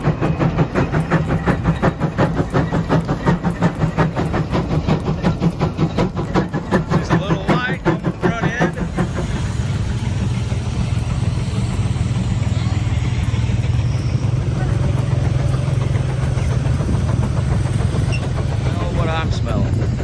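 An old tractor engine plowing a field with its operators aboard, a loud steady chugging drone with rapid rhythmic firing throughout, shifting to a lower heavier tone midway.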